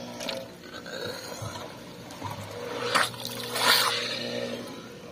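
Water splashing and trickling from a homemade water pump driven by an AC motor, with a low mechanical hum underneath, a couple of louder gushing surges partway through.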